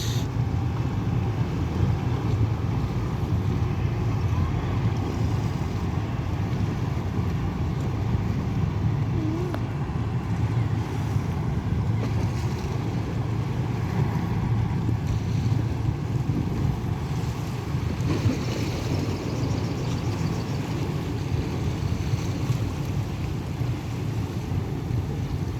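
A ferry crossing to Sabang churns along with a constant low engine drone mixed with washing waves and wind buffeting the microphone, a steady, even roar with no voices.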